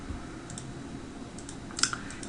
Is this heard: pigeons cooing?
no